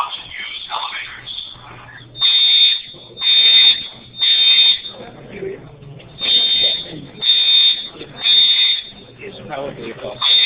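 Fire alarm in an office building sounding in repeated loud, high-pitched electronic bursts of about a second each, separated by short gaps, with people talking and background commotion between and under the blasts.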